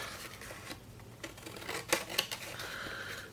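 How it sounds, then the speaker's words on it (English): Quiet snips of scissors cutting a paper piece for a Christmas card keepsake journal, a few soft clipped strokes over faint background noise. "And then we'll cut this piece out."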